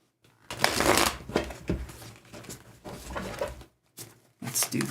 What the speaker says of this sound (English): And let's shuffle these cards up.